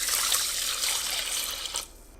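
Water is poured into the inner pot of an Instant Pot Mini with rice, a short steady trickle that stops near the end, close and fairly loud with no talk.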